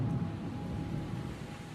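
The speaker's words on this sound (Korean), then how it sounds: "갑자기 천둥 번개가 치더니 이 폭풍과 함께 비와 우박이 막 거세게 쏟아져 내린 겁니다" Rumbling thunder with steady heavy rain and hail pouring down in a storm, a continuous low roar and hiss throughout, loud and close with no voices.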